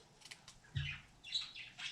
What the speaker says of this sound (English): Those birds are getting it, y'all. Getting it loud.